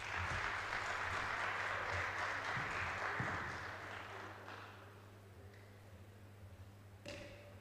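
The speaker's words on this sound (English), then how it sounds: "I think he deserves a bigger round of applause." Applause from an audience after an inspiring presentation at a reality show grand finale, a broad wash of clapping that stays steady before thinning out, with a low steady hum beneath.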